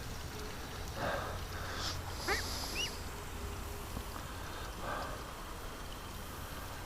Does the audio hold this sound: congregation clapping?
no